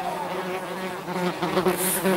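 Yellowjacket wasps buzz close by in a continuous, droning hum that wavers in pitch and loudness as they move about.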